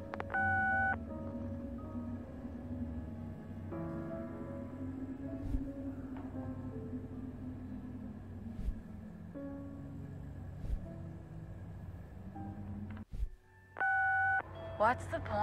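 An in-game phone call tone rings out unanswered in a room sim, with repeated electronic beeps and ring pulses at the start and end over a steady low hum and game sounds.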